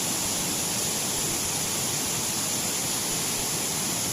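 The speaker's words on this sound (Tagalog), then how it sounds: "ayan may ginawa pa silang parang falls na yun oh" An artificial indoor waterfall in a forest garden inside Doha airport, Qatar, makes a steady, broadband rush of falling water that stays even and unbroken from start to finish, with no voices over it.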